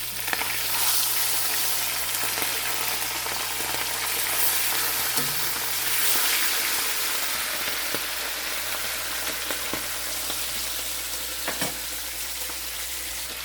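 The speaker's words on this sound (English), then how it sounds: "I reduce the flame or the temperature in frying our fish" Steady sizzling and crackling of fish frying in hot olive oil, continuous and fairly close, with occasional louder pops and no voices.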